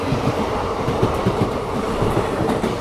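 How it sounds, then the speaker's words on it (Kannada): A diesel train bound for Kalyanadurga rumbles past during a crossing, heard from inside another train as a loud, steady roar with rhythmic clickety-clack of wheels over rail joints throughout. "ಕಲ್ಯಾಣದುರ್ಗ ಟ್ರೈನ್ ಜೊತೆ ಕ್ರಾಸಿಂಗ್ ಮಾಡ್ತಾ ಇದ್ದೀವಿ ನೋಡಿ."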